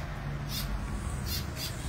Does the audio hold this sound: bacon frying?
no